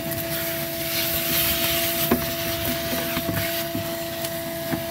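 A vacuum cleaner runs steadily at close range, a constant broadband rush with a fixed whine, broken by a few sharp clicks and rattles, likely debris being sucked up.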